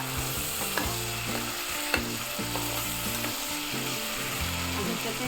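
Tomatoes roasting in a pan, a loud continuous sizzle and crackle close up, steady throughout with a couple of faint knocks, no voices.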